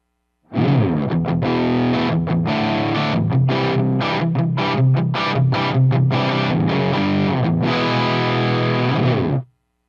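A distorted electric guitar plays a classic rock riff through a Marshall JVM 410H amplifier with no boost, giving thick saturated chords in choppy rhythmic bursts, loud and close with no talking.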